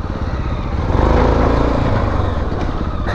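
A MASH X-Ride 650 trail motorcycle with a 21-inch front wheel runs steadily on a dirt trail near Lyon, its single-cylinder engine droning loud and close with a slight swell in the middle, no talk over it.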